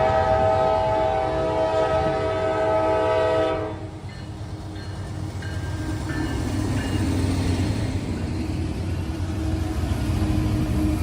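A BNSF SD70MAC locomotive passes at night, its horn sounding loudly for a few seconds before cutting off, followed by the steady rumble and rattle of the train rolling by.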